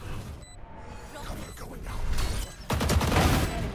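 A Valorant video game firefight plays on the Sunset map, with sharp gunshot cracks and mechanical clatter. A denser burst of rapid fire comes in the second half against steady game ambience.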